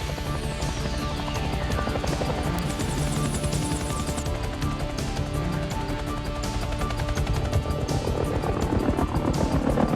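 A continuous loud rotor drone with rapid thumping pulses, steady and close throughout, with no voices.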